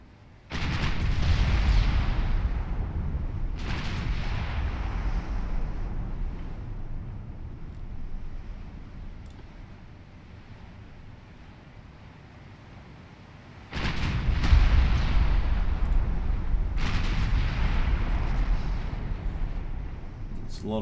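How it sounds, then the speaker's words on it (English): Heavy battleship main guns fire in the naval strategy game Ultimate Admiral Dreadnoughts, booming in two loud bursts with long rumbling tails and a quieter stretch between them, with speech over the top. "Doubles your number of big guns on the target."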